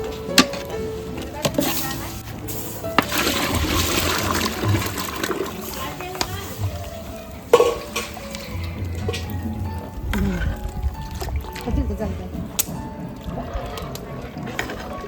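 Water splashes and gurgles as it is poured into a large cooking pot of dal and potatoes in a village kitchen, mixed with clatter from other cooking and background voices.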